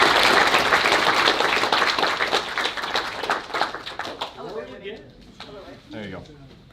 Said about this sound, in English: give a round of applause for everyone.